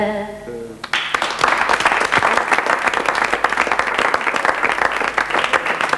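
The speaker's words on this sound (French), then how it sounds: "On applaudit vos amis fidèles." Dense, loud applause from an audience at a ceremony in Angoulême, bursting in after a brief sung note and continuing as a steady, crackling wave of many hands to the end.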